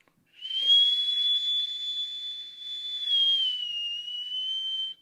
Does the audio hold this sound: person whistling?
yes